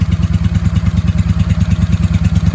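A 1995 Honda Shadow VLX 600 VT600CD engine runs on the fuel left in its carburetor, a loud close rhythmic chugging idle with an even rapid pulsing beat.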